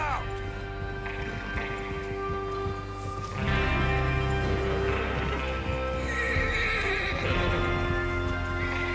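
Galloping hooves and horse whinnies in the game Red Dead Redemption 2 over a steady music bed, growing denser and louder partway through.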